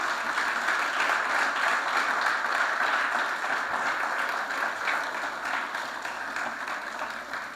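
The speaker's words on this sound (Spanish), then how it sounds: "dale un aplauso al Creador" A church congregation applauding together, sustained dense clapping that holds steady for several seconds before easing slightly.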